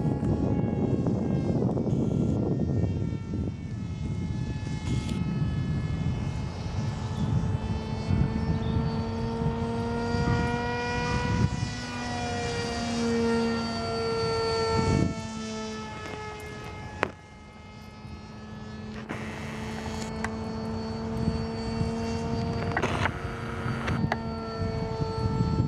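A YF-23 model jet aircraft flying at low speed in slightly gusty conditions, a continuous whining engine drone with rising and falling tonal pitch, near and steady throughout, with a brief dip in loudness.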